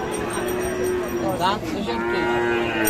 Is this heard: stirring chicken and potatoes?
no